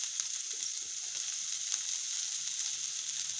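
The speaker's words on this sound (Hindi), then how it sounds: "और इस प्याज को अच्छी तरह से हम इसमें भूनेंगे। और अब हम इसमें ये चिकन डालेंगे" Chicken and onion frying in a pan, giving a steady bright hiss of sizzling oil with faint crackles, continuous and fairly quiet.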